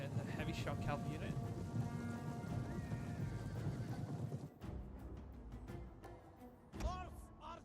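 Horses whinny and hooves clatter on a Rome 2 battlefield, a loud mass of cavalry noise that drops away midway, leaving scattered hoof thuds and one more neigh close by, with voices speaking over it.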